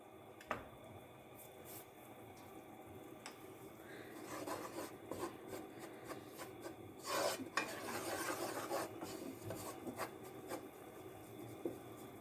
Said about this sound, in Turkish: kokusu çıkana kadar unumu güzelce kavuracağım